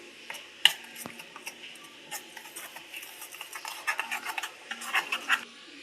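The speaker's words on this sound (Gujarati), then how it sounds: "સરસ રીતે બધું મિક્સ કરી લેશું." A spoon stirs cocoa, cornflour and custard powder into cold milk, making quiet, irregular clinks and scrapes against the container that grow a little busier toward the end.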